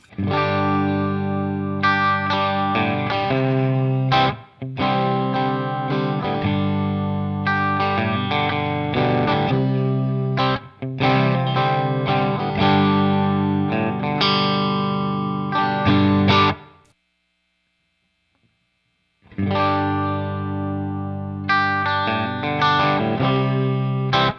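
Distorted electric guitar riffs and chords play loudly with no voices, broken by brief pauses and a few seconds of silence before the playing resumes.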